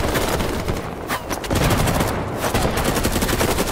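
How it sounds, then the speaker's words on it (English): Rapid automatic gunfire from BattleBit Remastered rattles loudly and continuously in dense bursts, with brief pauses between volleys. "Just shoot everywhere, it doesn't matter where the bullets go, shoot everything."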